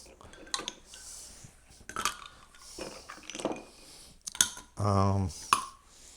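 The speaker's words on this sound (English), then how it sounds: "I'm going to add some ice to my glass." Ice is dropped into a glass while a strawberry shrub cocktail is being made, giving several sharp clinks and rattles, then a louder clattering burst near the end, with soft talking in between.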